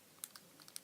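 Small fidget cube clicker buttons being pressed, giving a few quiet, crisp clicks spaced irregularly, with four or five faint snaps alone against a hushed background.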